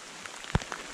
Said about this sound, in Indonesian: Hujan lagi, hujan lagi.